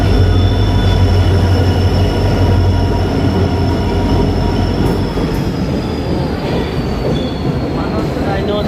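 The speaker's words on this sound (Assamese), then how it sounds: "এইফালৰ পৰা কুঁৱলী ফালি আহি গ'ল আমাৰ ট্ৰেইন" A Bongaigaon–Guwahati passenger train arrives through morning fog with headlights on, a loud, close, continuous rumble of rolling carriages with a steady metallic wheel squeal over it, no voices.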